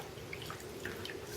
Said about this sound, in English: So I'm just going to dip it in my water to get rid of the soap